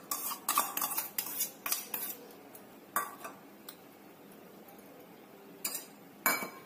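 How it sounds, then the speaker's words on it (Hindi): A spoon clinks and scrapes against a bowl in bursts of rapid taps while curd and gram flour are mixed together, with quieter pauses between; no voices. "कढ़ी बनाने के लिए सबसे पहले दही और बेसन को मिक्स कर लेते हैं।"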